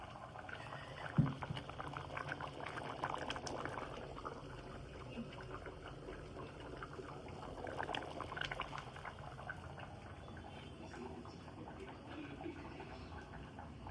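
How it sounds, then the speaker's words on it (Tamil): A pot of kaara kulambu, a tamarind curry, boils away, giving a soft, close bubbling and simmering with a few louder blips and splashes, low and continuous throughout. "நல்லா குழம்பு கொதிச்சிச்சு பாருங்க."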